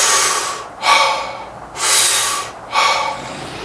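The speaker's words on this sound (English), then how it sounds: "stop forcing your exhale and go back to full deep breaths with a natural exhale" Deep, full breaths with relaxed, unforced exhales, three broad airy rushes in a steady rhythm, loud and very close to the microphone, with no talking.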